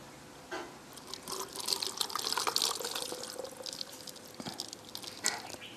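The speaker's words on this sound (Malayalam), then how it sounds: "ഇപ്പം ഞാൻ ഈ വെള്ളം ഇതിലോട്ടൊക്കെ ഒഴിച്ചു കൊടുക്കുവാണേ" Hot water is poured over mangoes to make salted mango pickle, giving a soft, close trickle and splash that swells in the middle and tapers off, with no talk.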